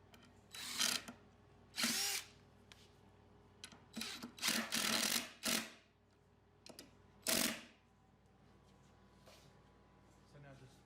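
Several short bursts from a cordless drill driving screws into the ends of a clamped wooden cabinet shelf, each whir rising and stopping abruptly, with pauses between and faint background noise.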